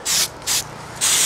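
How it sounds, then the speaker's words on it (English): Spray paint hisses onto the edges of a painting board in three short, close bursts separated by brief pauses. "you notice I'm just spraying right on the edge."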